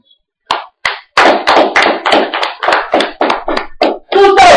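A church congregation claps in praise of Jesus, a loud burst of irregular handclaps that builds into steady ragged applause lasting several seconds.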